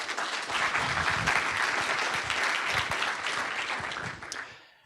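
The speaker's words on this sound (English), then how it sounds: "Welcome Eric on stage with a big round of applause." A conference crowd at a DevOps event applauds as a speaker takes the stage, a loud, dense burst of clapping that holds steady and then fades out near the end.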